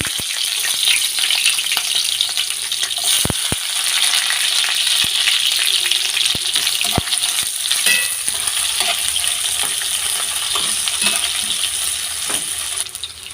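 Chopped onions sizzle and fry in hot oil in a pan for a village-style chicken curry, a steady bright crackle with occasional sharp clinks of a stirring spoon against the pot.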